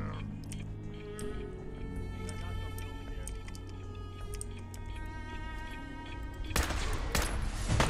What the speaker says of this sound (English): we are taking heavy fire